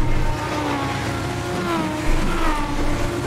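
Legends '34 Coupe race car in iRacing at Lanier National Speedway, engine droning steadily with a wavering whine as it crashes, continuous and fairly loud with no voices.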